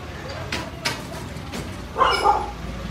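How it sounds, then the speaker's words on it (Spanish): A dog gives several short barks and yips during a police operation before a curfew, the barks spaced apart amid background chatter and voices nearby. "¡Llegó el perro!"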